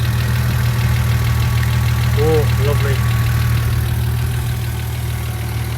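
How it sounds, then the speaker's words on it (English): Engine with aggressive reground camshafts idling steadily with a tappy valvetrain clatter over a loud, constant low rumble; someone speaks briefly over it. "So the reason my engine is tappy"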